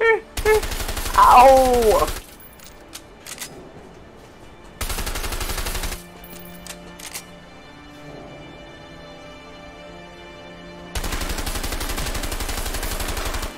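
Gunfire in the video game A Way Out comes in three sustained, loud bursts of rapid shots separated by quieter stretches, with a man crying out in pain near the start.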